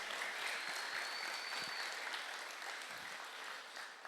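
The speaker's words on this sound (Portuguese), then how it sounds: "Vamos dar uma salva de palmas." A crowd claps steadily for several seconds at a seminar after a talk, a dense wash of applause heard from within the audience.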